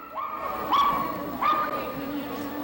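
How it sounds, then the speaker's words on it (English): Dogs at a small-town dog show in Lloydminster give a few short, whining yips and barks in a repeated rising pattern, fairly close, over a busy background of ambient noise. "The only place in town where you can hear 100 barking dogs and not one shut up."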